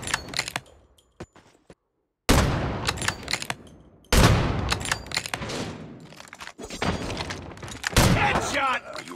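Call of Duty match with bursts of gunfire and sharp shots in several loud clusters separated by brief silences, with game voice callouts and player speech mixed in.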